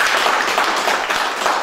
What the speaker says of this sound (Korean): 우리 남아 계신 회원들한테 박수 좀 한번